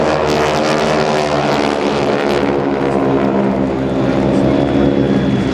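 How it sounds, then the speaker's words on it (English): GEICO Skytypers World War II propeller aircraft making a low pass at an air show open house, a loud, rough, droning roar of several piston engines that sweeps past close by. "continue to watch the aircraft as they rejoin, flying straight ahead, then reverse back to give you one more exciting opportunity to place these magnificent World War II icons"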